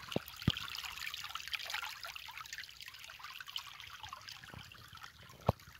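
Irrigation water trickles and gurgles steadily at low volume through a field channel, with a few sharp clicks and splashes scattered through the flow.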